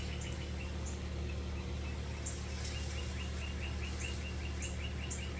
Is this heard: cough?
no